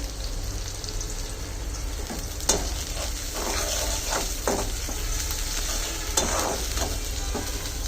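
Sizzling ginger, garlic and cumin paste with bay leaves and spices frying in a pan, repeated scraping and stirring strokes, occasional sharper clinks of a utensil against the pan.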